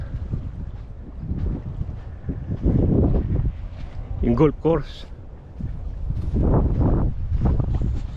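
Steady wind buffeting a microphone outdoors on Fraser Island, a low continuous rumble under a person talking throughout.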